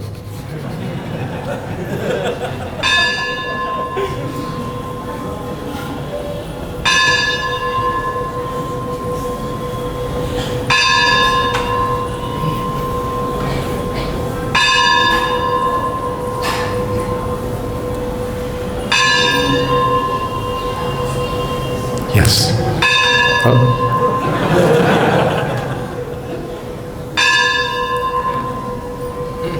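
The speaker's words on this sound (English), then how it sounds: "Let them ring the bell 7 times more." A church bell tolls in slow, regular strikes about every four seconds, each ringing out with long overtones over a steady hum, while a voice talks briefly in the background.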